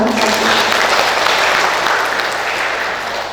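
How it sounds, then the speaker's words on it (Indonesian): Applause for Trisakti at a book launch and discussion on cooperatives, a dense, steady wash of many hands clapping that fills the whole stretch at a loud level. "Tepuk tangan sama Trisakti"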